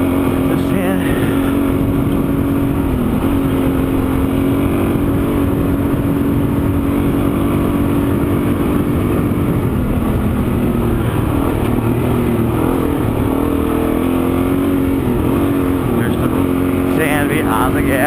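Dual sport motorcycle riding through deep sand in Camp Creek Wash, Arizona: steady, loud engine drone with slight throttle swells and wind rush throughout, close-up from the rider, with a voice speaking over it.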